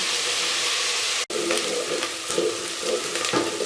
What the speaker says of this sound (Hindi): हम इसी तरह चम्मच चलाते हुए इसको फ्राई करेंगे।